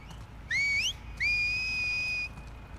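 Whistling in The Last of Us Part II: two clear whistled phrases, a short rising call and then a longer sustained tone with a rising lead-in, heard alone over quiet background.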